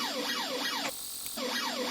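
An electronic cockpit alarm in a flight simulator game wails in fast repeating up-and-down sweeps, breaks off for about half a second, then resumes just as loud, with no talk over it.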